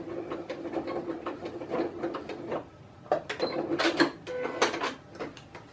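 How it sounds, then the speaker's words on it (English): A sewing machine runs through a lock stitch while a shoulder strap for a folding table is made, its rapid rhythmic clatter coming in bursts with brief pauses, close and moderately loud. "Doing the lock stitch."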